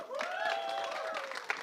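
An audience claps and cheers for the cast of the Punjabi film Jatt & Juliet 3 at a trailer launch. Steady applause runs throughout, with a tonal whistle or voice rising over the crowd.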